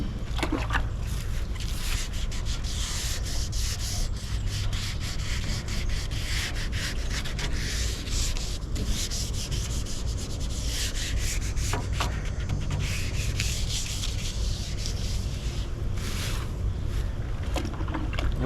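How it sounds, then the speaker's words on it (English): Sandpaper rubs lightly over a car's painted panel, scuffing wrinkled spray paint in a steady back-and-forth rasp that runs loud and close without pause, with no voices. "We're just lightly scuffing. Happy little sand scratches."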